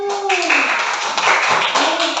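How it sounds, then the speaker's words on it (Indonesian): Schoolchildren in a classroom do a group clap, a burst of rapid hand claps mixed with chanting young voices, loud and close, continuing throughout. "Tepuk tangan kelompok 1."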